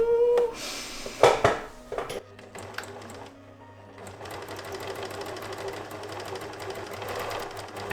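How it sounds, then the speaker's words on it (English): Sewing machine stitching a quilt, a steady mechanical whir with rapid needle ticking that runs through the second half, preceded by a few clunks and handling knocks as the fabric is positioned. "so I need to sew this side"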